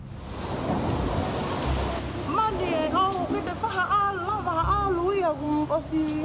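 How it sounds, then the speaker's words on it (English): Pounding tsunami waves from the Tonga tsunami crashing against homes, a continuous loud roaring surge with a wavering voice rising over the water partway through. "The pounding waves are relentless."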